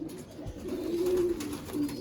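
Old breeding pigeons in a champion-bloodline loft give a sustained low cooing, steady and close, with a second short coo near the end and faint loft noise around it.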